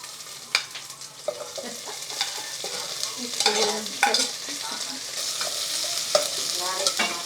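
Ginger and garlic sauté in a hot pan for a Bisaya-style shrimp and chicken soup, a continuous close sizzle broken by scraping stirs and small clatters, no voices.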